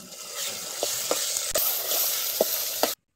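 Ground chili masala and spices frying in oil for a village-style chicken curry, a loud, dense sizzle with a few spoon clicks and scrapes, then abrupt silence at the end.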